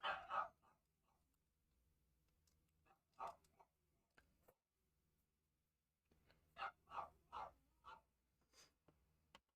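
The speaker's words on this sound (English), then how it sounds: "God, my dog's having a mental breakdown." A dog barks and whimpers indoors in short loud bursts, with a quiet gap between two clusters of sharp barks and softer whines.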